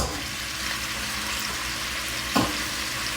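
Oxtails sear in a hot pan with a continuous close sizzle, broken by a brief clatter near the end.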